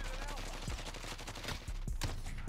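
Grau 5.56 rifle fire in a video game, several rapid bursts of shots cracking over a constant background roar, loud and close, with no talking.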